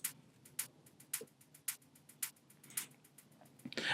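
Crisp hi-hat ticks in a deep tech house groove, run through a 1/3-time delay so bright strong hits alternate with quieter echoes in a busy, shuffling pattern, ending on a brief noisy swell.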